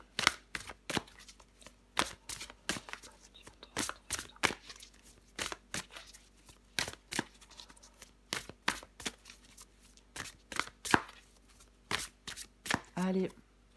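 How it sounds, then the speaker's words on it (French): Tarot cards are shuffled and drawn by hand in a steady run of quick, close riffling bursts. A voice comes in briefly near the end. "Allez, je prends encore une carte pour vous les poissons."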